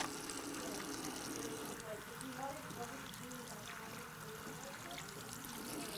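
Tap water runs steadily from a faucet during handwashing, a continuous pouring hiss that stays at an even, moderate level for the whole stretch with faint background sounds.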